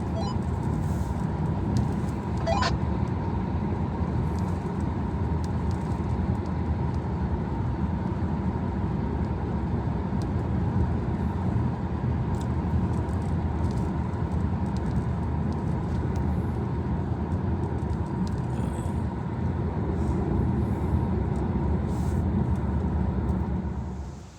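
Road traffic in Norway passes as a continuous, even rumble of engines and tyres, moderately close and steady throughout with no voices over it.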